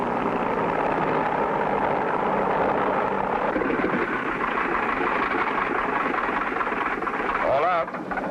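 A small plane in a cartoon taxis along a runway at Walrus Cove in Alaska, its engine a loud, steady droning roar that runs unbroken throughout, with a brief warbling sound near the end.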